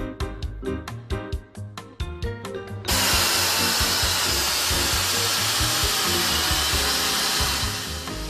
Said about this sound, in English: Attach a carbide cutter to a 500 RPM slow-speed air drill